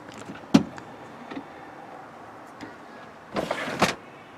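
Rear power windows on a car whir briefly as a switch in the back is pressed, with a click, a short motor run and a couple of faint thumps, quiet and close in a still cabin.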